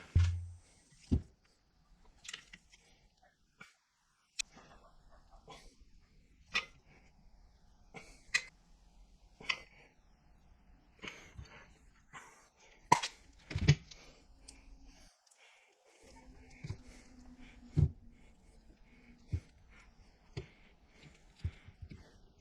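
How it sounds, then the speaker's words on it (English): A caulking gun squeezes window weld urethane into a Porsche 911 996 engine mount, heard as sparse, faint, evenly spaced clicks and ratchet snaps in a quiet space. "I got the window weld and the caulking gun."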